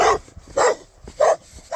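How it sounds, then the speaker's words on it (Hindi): A tied-up village dog barks loudly at close range, three sharp separate barks spaced roughly half a second apart with near silence between them. "मेरे को भौंक रहा है ज़ोर ज़ोर से"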